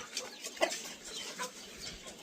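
Chickens in a poultry shed, faint scattered clucks and chirps at a distance over a quiet background, with one slightly louder cluck.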